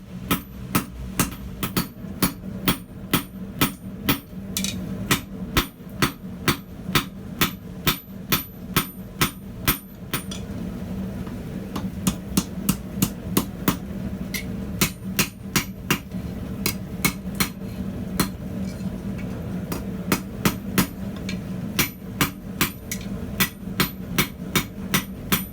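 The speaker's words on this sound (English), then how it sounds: "I'm really enjoying using this new hammer which I made a couple of weeks ago." Sharp metal blows from a handmade hammer ring out in rapid, steady runs with short pauses between bursts, close and crisp, no talking.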